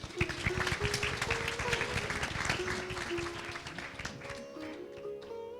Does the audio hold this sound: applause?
yes